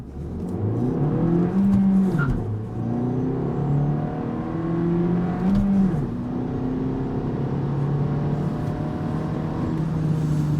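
Suzuki Swift Sport with a 6-speed manual accelerating from 0 to 100 km/h: the engine climbs in pitch, falls at each of several gearshifts and climbs again, heard from inside the car as a moderately loud drone with no talking.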